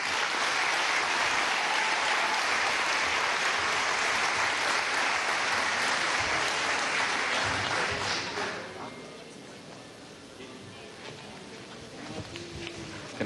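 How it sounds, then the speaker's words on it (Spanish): Audience applauding at the inauguration of Venezuela Digital 2017, a dense sustained clapping that fills the room before fading to a quieter murmur near the end. "Un aplauso para ustedes."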